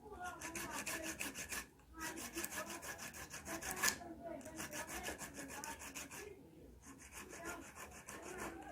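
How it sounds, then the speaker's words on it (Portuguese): Coarse number 60 body-filler sandpaper rubbed back and forth on a sheet-metal ruler, producing steady rhythmic rasping strokes with brief pauses between passes, close and moderately loud. "Inicialmente vou utilizar uma lixa número 60, né? Lixa para massa. E vou utilizar ela na régua de chapa aqui"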